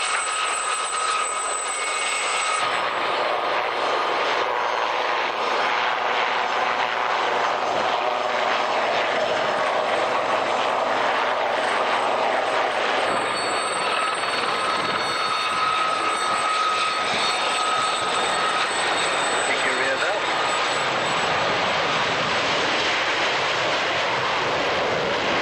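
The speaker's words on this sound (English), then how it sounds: "One of the most graceful aircraft" A fixed-wing aircraft drones overhead at the 1995 Woodford Airshow, a sustained loud engine roar that swells and shifts in pitch as it passes, with crowd and wind noise underneath.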